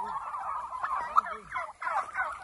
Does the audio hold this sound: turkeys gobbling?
yes